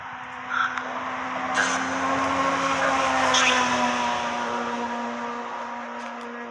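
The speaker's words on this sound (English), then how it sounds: "For sure you won't have any problems hearing the traffic" Steady road traffic rolls past just outside a forest, a continuous broad rushing roar with a low engine drone running throughout and a few brief louder swells as vehicles go by.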